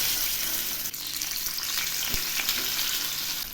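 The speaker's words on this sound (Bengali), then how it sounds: "তেল গরম হয়ে গেছে, এবার আমি মাছগুলো ছেড়ে দিচ্ছি।" Silver carp pieces go into hot oil in a pan, setting off a steady, close, hissing sizzle with a brief knock partway through as the fish is added.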